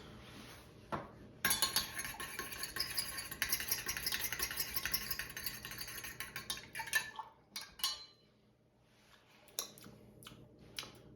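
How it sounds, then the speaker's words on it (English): A cocktail of apple cider and syrup is stirred to combine, producing close, quick clinks and scrapes of a spoon against glass in a busy burst that thins into scattered taps toward the end. "To that, I'm gonna add 1 ounce of this syrup. And then we will mix to combine."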